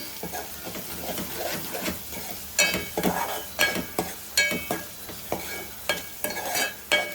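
Curry leaves sizzle in hot oil in a pan while a spoon stirs them, giving repeated scraping strokes in an uneven rhythm over a constant frying hiss, close and moderately quiet.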